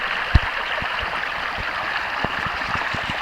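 Creek water flows steadily past an old road bed crossing, a loud, continuous broadband rush with occasional small knocks and clicks nearby, no voices.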